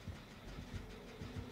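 A generator under repair in the horror game Dead by Daylight gives off a faint, steady mechanical hum and rumble, with a few soft rhythmic clunks pulsing through it and no talk.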